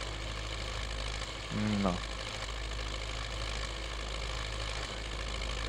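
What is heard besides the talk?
MTZ 82 tractor engine idling, from a video game mod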